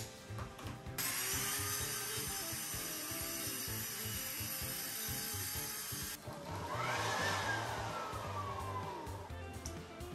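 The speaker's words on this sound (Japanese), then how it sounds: "アルミ複合板を丸ノコで切って粉まみれになってますね。" Circular saw cutting aluminum composite panel left over from bathroom work, for a kitchen wall behind an IH cooktop; a loud, sustained whining cut runs almost the whole time with a brief break near six seconds.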